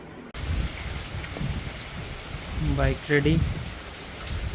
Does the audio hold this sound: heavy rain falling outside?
yes